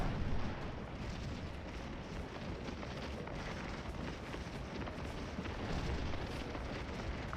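Artillery fire in the battle game Scourge of War, a dense, continuous roar of overlapping distant booms and rumbling gunfire that holds steady at a moderate level throughout, with no single shot standing out.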